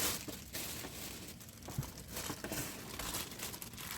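Plastic packaging crinkling and rustling near at hand while a Ninja air fryer is unboxed, a steady run of crackles and crumples with a few sharper tearing bursts and no talk.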